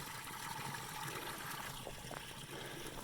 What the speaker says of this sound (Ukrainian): Це звичайне джерело, звідки тече вода.